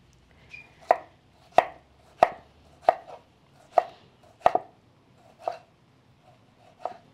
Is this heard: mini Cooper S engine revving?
no